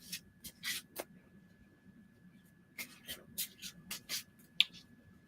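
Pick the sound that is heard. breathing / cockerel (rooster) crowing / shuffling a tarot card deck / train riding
shuffling a tarot card deck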